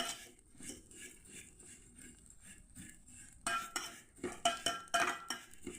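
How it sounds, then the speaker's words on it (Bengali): A spoon stirs vermicelli in hot ghee in a pan with soft scraping at first, then sharper clinks and scrapes that grow louder and more frequent toward the end. "গরম গাওয়া ঘিয়ের সঙ্গে একটু হালকা করে নাড়িয়ে নিচ্ছি"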